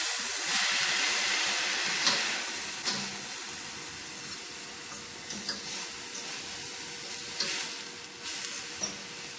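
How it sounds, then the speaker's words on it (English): Fried dumplings cooking slowly in hot oil give off a steady close sizzle and hiss that runs throughout, with a few small pops and stirring clinks on top and no talking. "So I am going to let them fry slowly because I want them to be cooked"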